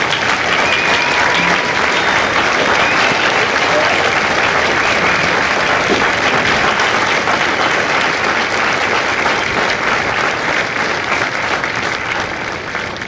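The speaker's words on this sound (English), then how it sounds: "Ladies and gentlemen, a round of applause for their dedicated service to core and country" Sustained applause from a large audience honoring Marine veterans at a Kilo Company recruit graduation ceremony at MCRD San Diego, a dense steady roar of clapping at full strength that continues without pause and eases slightly near the end.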